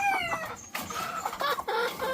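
Breeding hens clucking close by at a farm, a run of short, tonal clucks and calls in quick bursts with brief gaps, fairly loud and with no talk over them.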